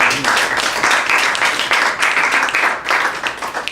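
Audience applause after a poetry reading at a cafe, steady and fairly close clapping from a small crowd that carries on evenly throughout.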